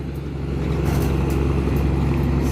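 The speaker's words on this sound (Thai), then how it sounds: "ส่วนข้างหน้านี้ก็จะเป็นเรือลาก" A tugboat's engine drones steadily on a Bangkok river, deep, low and heavy, rumbling continuously with a faint broadband wash of water or wind over it.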